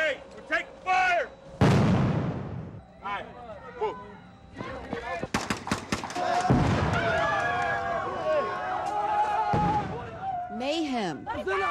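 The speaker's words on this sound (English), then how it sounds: "Hey, we're taking fire!" During a military training exercise at Fort Polk, loud gunfire cracks out in several sharp, booming bursts, mixed with urgent shouting voices and chaotic movement noise throughout.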